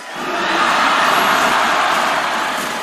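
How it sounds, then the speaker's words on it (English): Dense roar of a large esports arena crowd at Rizal Memorial Coliseum during a world championship grand final match, a loud, steady wash of cheering that swells in and holds without breaks. "Listen to the crowd."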